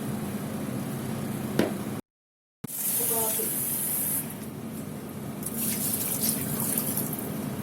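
Steady running tap water pours over an item being washed in a kitchen while baking a cake, a constant close hiss with a short break and a few clinks and splashes.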